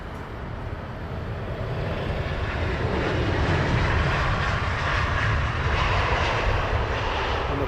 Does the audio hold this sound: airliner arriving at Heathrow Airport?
yes